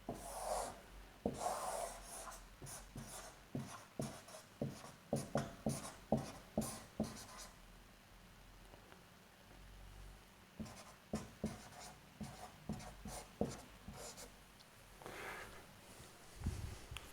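Physics equations are written out by hand during a lecture, with a series of close scratching strokes in short rhythmic bursts, a quieter pause midway, and a few breaths between.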